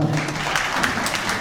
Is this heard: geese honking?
no